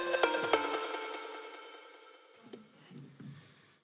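Layered synth patch of a Pluck Animal sound and a Spire sound, one voiced an octave lower, playing together: a few bright plucked notes up front, a sustained tone fading out, then a couple of softer low notes at the end.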